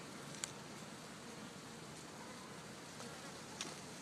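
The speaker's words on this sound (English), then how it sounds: "getting ready to remove this pretty big swarm of bees." A large swarm of bees in Los Angeles buzzes steadily at close range, a dense, even drone with a few brief louder passes of single bees flying near.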